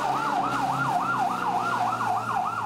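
Fire truck siren from a Bureau of Fire Protection unit answering a blaze at an elementary school, wailing in a fast, steady up-and-down cycle, loud and continuous with no voices.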